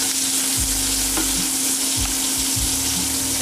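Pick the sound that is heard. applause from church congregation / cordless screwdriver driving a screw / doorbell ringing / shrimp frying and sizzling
shrimp frying and sizzling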